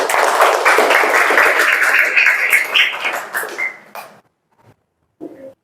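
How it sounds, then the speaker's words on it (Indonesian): Classroom applause from a group of students, a steady burst of clapping that swells for about four seconds, then fades out, followed by a faint voice in the quiet. "tepuk tangan untuk kita"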